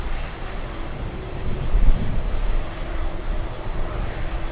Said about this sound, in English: We have an aircraft on final.